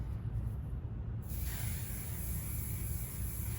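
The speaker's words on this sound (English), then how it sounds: "I'm gonna spray it with a little bit of medium hold hairspray to really lock in that style." A short, close hiss of medium hold hairspray starts partway through and continues steadily over a low background rumble.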